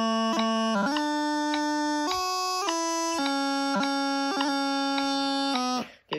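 A bagpipe practice chanter plays an ending phrase that starts on F and includes a D throw, with steady reedy notes and quick grace-note flicks between them, loud and alone before it cuts off.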